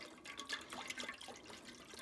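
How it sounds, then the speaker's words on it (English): About a quart of chicken broth pours steadily into a pot of onions, a soft continuous splashing and gurgle at low level, with no voices. "You pour in about a quart of chicken broth"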